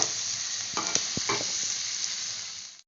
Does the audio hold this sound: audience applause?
no